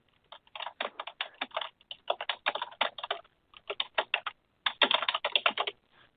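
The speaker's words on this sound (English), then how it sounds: "I know you all can hear me typing" Rapid typing on a computer keyboard, close and moderately loud, in bursts of quick clicking keystrokes with short pauses between and no talk.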